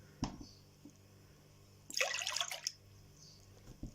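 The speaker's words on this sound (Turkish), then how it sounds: "2 su bardağı sütümüzü ekliyorum" Milk being poured into a mixing bowl that already holds an egg: a soft initial splash, then a brief bright gurgling pour lasting under a second, quiet and close, with faint drips around it.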